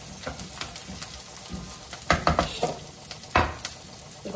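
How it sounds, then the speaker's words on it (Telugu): Garlic and onions fry in oil for a tomato pickle, a steady close sizzle broken by a few louder scraping stirs, with no talking. "ఈ వెల్లుల్లిపాయలు కూడా అందులో ఫ్రై అయిపోతాయి"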